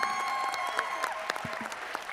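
An audience at a Superman panel at Planet Comicon in Kansas City claps in a short, steady burst of applause, with many hands close together and no voices over it.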